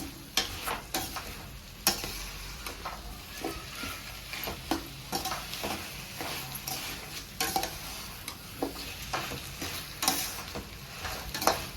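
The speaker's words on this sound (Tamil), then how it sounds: "இது கூடவே கொஞ்சம் மஞ்சள் தூளும் போட்டு வதக்கினேன்" Ivy gourd pieces sauté with turmeric powder in a pan, a steady soft sizzle broken by frequent sharp scrapes and taps of a spatula against the metal, close and unaccompanied by talk.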